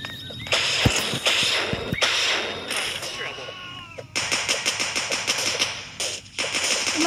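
Gunfire in the Dude Theft Wars multiplayer video game, loud rapid bursts of shots in several volleys, with a voice speaking over part of it.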